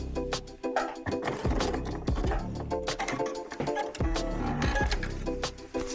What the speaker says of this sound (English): sewing a second line of top stitching